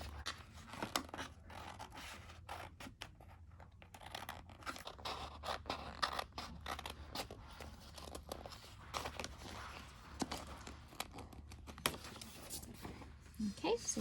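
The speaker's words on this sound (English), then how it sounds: "I'm going to go ahead and cut some of the transfer tape that they provided us" Scissors cut Cricut transfer tape in a string of soft, quick snips and crinkly rustles, close and fairly quiet, with a voice speaking under them.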